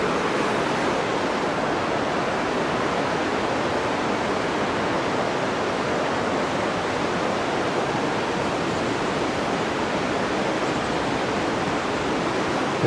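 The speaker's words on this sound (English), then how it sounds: "The sheer force of water has worn away the granite walls." Water rushing through a narrow granite gorge near Ketchikan, Alaska, a constant, broad, hissing roar that stays loud and even throughout with no other sounds.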